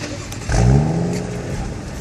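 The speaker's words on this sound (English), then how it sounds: "Give it a little rev." A BMW M235i engine blips into a loud rev about halfway through, the pitch climbing and then settling into a steady idle close by.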